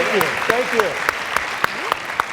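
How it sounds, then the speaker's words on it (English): Applause from an audience at the 2016 Do Good Challenge Finals for the program's alums, with a speaker's voice over the clapping and a few sharp, evenly spaced claps standing out above the crowd. "So how about one more round of applause for our fabulous Do Good alums?"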